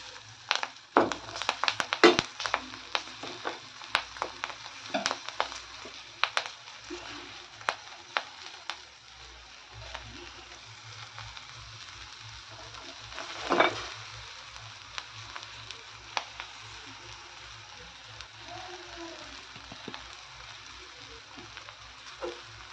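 Chopped chiv greens sizzle and fry in a pan, a steady crackling hiss punctuated by irregular pops and stirring clatters, close and continuous with no one talking.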